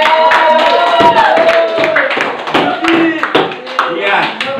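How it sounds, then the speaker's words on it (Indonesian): Classroom audience clapping together during an entrepreneurship lesson, a burst of hand claps mixed with voices and chatter, fairly loud and close. "Oke, kita berikan tepuk tangan."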